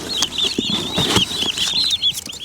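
Several young turkeys in a box chirp and cluck rapidly in close quarters, high peeping calls layered with soft scratching and bumping sounds nearby.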